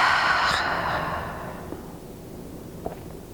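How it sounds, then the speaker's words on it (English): A deep yoga breath, a full inhale followed by a long, complete exhale, heard close and soft with a broad airy hiss that fades over a few seconds, with no talking. "Inhale to the belly, into the heart. Full exhale out."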